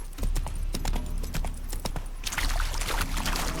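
Horse hooves clip-clop steadily on a mount in The Witcher 3: Wild Hunt, Hearts of Stone, the close, even hoofbeats continuing the whole time over a soft ambient bed.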